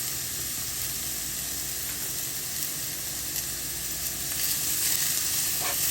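Carrots and chayote stir-fry in hot oil in a pan, giving a steady, close sizzle with a dense hiss that swells slightly toward the end, with no voices.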